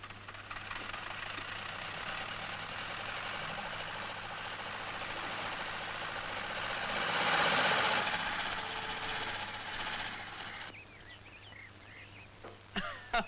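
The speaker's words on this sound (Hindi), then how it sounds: "तुम सिर्फ बंदूक ही नहीं ट्रैक्टर भी चला लेते हो" A tractor engine runs steadily and loudly throughout in a 1981 Hindi film scene, its rough, knocking idle swelling briefly midway before easing off.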